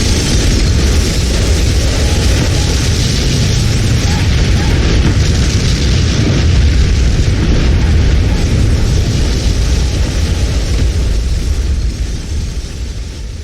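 A tower explodes in the video game Manamon, a loud sustained rumbling roar that fills the whole stretch and tapers slightly toward the end, with no voices over it.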